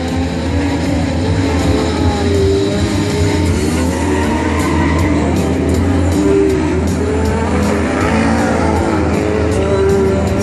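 Volkokar race car running its special lap on a circuit, a loud continuous engine drone with steady mechanical roar and no break in the sound.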